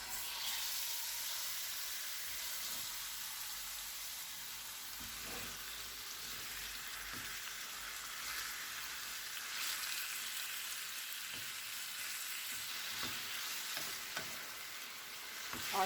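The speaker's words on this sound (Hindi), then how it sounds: "मैरिनेट किया हुआ चिकन डालेंगे" Marinated chicken frying in cooking oil in a pan, making a continuous dense sizzle with occasional soft stirring knocks and no talking.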